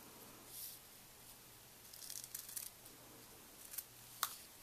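Cheap scissors snip paper in a few quiet, irregular cuts, only partly cutting through, with soft rustling between them, close by in a quiet room.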